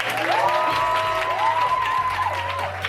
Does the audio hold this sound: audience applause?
yes